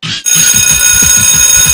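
A school bell rings loudly and continuously after a short clipped start, a bright, steady electric jangle with a rapid rattling pulse underneath, close and alone.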